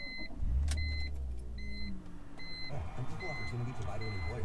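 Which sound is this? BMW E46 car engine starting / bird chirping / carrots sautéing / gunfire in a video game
BMW E46 car engine starting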